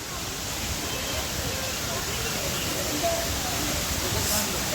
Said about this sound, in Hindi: देखो झरना कितना शानदार है, वाह।